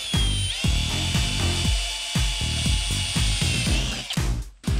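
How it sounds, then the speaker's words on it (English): A power drill bores a pilot hole for an antenna install on a custom cargo trailer camper, a steady high whine broken by repeated short pulsing bursts as the bit bites, close and loud. "Now I'm going to do my pilot hole."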